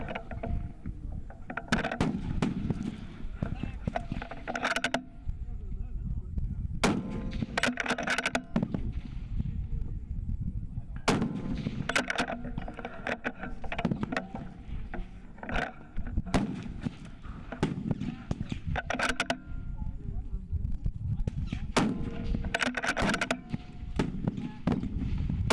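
Precision rifle shots ring out across a PRS positional match stage, several sharp cracks spaced seconds apart with reverberating tails, mixed with shuffling and faint background voices.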